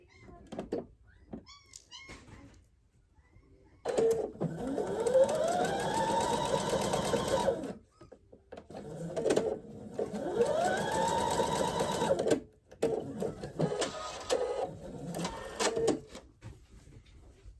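A sewing machine stitches a quilt block in two long whirring runs of about four seconds each, separated by brief pauses and followed by shorter bursts, all heard close up.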